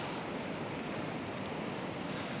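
Broad, steady rush of a flooded brook swollen after Storm Dennis, a continuous roar of fast-flowing water close by with no pauses, and no voices.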